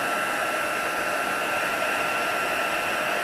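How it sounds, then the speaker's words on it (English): A heat gun blows continuously while melting embossing powder, giving a close, steady, loud whooshing roar with a faint whine and no speech over it. "No matter how often I heat emboss, that moment when it turns from powder into shimmery magic"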